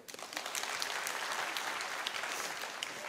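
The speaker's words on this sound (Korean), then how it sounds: "박수 주세요" A congregation at a church worship gathering breaks into a short burst of even, moderately distant applause lasting about three seconds.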